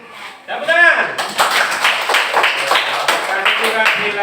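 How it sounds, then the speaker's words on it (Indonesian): A classroom group breaks into scattered, sustained clapping after a brief spoken cue from a voice, and the applause continues fairly loud and close to the end. "Tepuk tangan."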